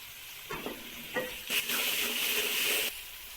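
Onions and ginger garlic paste sizzling in a hot pan with a few stirring scrapes, then a steady bright frying hiss swells for a moment before settling again.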